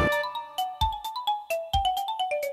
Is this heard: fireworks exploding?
no